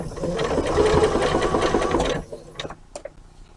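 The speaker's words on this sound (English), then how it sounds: "Then the machine will happily stitch back onto the fabric again." Sewing machine stitches denim from a pair of jeans into a large tote bag, a steady close rapid whirring run for about two seconds, then stopping, followed by a few faint clicks and handling sounds.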